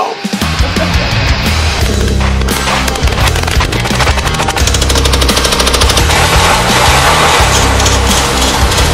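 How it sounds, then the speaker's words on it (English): Fully automatic rifle firing repeated loud bursts close by, dense rapid reports over a steady rumble throughout. "Never an automatic, fully automatic rifle."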